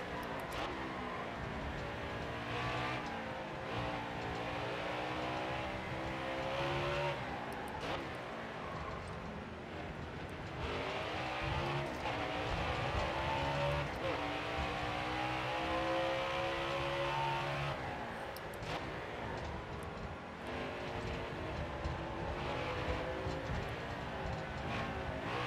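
Race car engines in NASCAR Heat 4 at Sonoma drone continuously at high revs, with pitch rising and falling through shifts and corners across a long, steady stretch.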